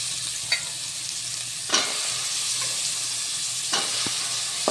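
Boiled chickpeas are stirred into chole masala frying in a pan, with an even background sizzle broken by three or four distinct scrapes and clacks of the spatula and no speech.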